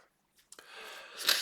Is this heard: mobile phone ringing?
no